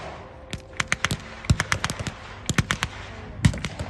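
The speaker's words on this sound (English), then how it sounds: "American airborne are lying down in the field, advancing on the village, firing as they go." Blank-fired rifles and machine guns crack across an open field during a WWII airborne battle reenactment, American troops advancing on a village against German defenders, with sharp bursts and single shots in uneven clusters at moderate distance.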